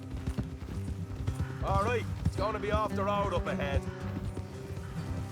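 Horses in the video game Red Dead Redemption 2 trot along in a steady rhythmic clip-clop of hooves that runs throughout, under someone speaking in the foreground.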